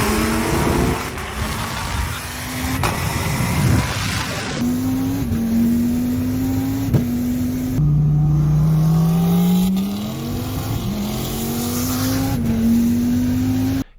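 Dodge Viper race cars from Calvo Motorsports accelerate hard on a racetrack: loud, continuous engine roar climbing in pitch through repeated gear shifts, with cars passing, and no talking.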